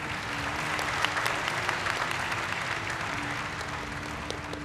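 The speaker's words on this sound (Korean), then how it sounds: "큰 박수 부탁드립니다" Steady applause from an audience welcoming a Hyundai Motor Group Robotics Lab executive, dense clapping sustained at an even level throughout with a faint tonal hum beneath.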